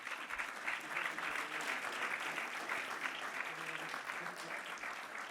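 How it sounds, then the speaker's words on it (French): Sustained audience applause at an awards ceremony as two women receive diplomas, a steady, even wash of many hands clapping at moderate distance with no speech. "On les applaudit toutes les deux."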